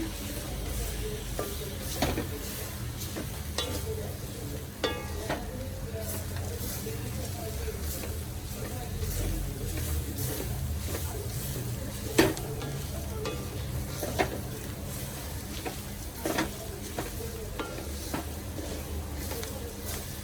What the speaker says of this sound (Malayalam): ഇത് നന്നായിട്ട് വറുത്തെടുക്കാം നല്ല ബ്രൗൺ കളറാണ്